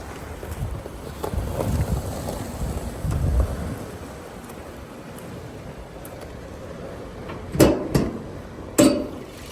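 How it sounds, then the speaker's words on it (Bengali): A 2017 Toyota Yaris engine idles with a steady low rumble, broken by a few sharp knocks near the end. "ইঞ্জেলের সাউন্ডটা শুনেন আপনারা মার্শাল ইঞ্জিনের সাউন্ড স্মুথ সাউন্ড"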